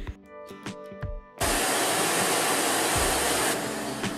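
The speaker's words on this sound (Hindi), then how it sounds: "इस वैक्यूम क्लीनर की मोटर की आवाज भी ज्यादा नहीं है, बहुत कम आवाज करता है ये।" A Philips PowerPro Compact bagless dry vacuum cleaner, model FC9352/01, switches on after a few soft clicks and handling knocks, its motor settling into a steady, loud, close whooshing roar that holds to the end.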